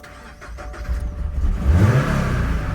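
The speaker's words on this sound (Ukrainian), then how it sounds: "Автівочка запустилась, все добре." A 2024 Toyota GR86 engine cranks and fires up after a brief quiet moment, then swells into a strong, close, rising rumble that settles into a steady running note.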